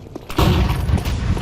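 A flashbang detonates in Counter-Strike during a pro match, a sudden loud burst about halfway in followed by a ringing, rumbling wash that lingers to the end, preceded by faint thumps.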